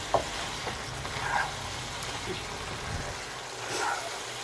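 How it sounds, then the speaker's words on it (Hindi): Mixed vegetables being stirred and fried in oil, a continuous moderate sizzle with occasional spoon scrapes and knocks against the pan, no speech. "अब हम इन सारी चीज़ों को मिक्स करके अच्छी तरह से भूनेंगे"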